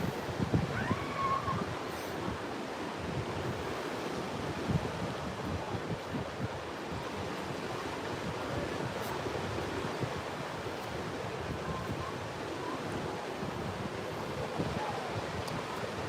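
Ocean surf washes steadily onto a beach at Perdido Key, Florida, at sunset, with a continuous broad roar of waves and wind buffeting the microphone, with no talk.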